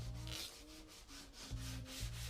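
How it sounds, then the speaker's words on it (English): Workers sand down a car bumper before painting, a quiet, steady abrasive rubbing that comes in repeated strokes with a regular back-and-forth rhythm, close and with no voices. "They're kind of sanding it down to make the surface as smooth as possible."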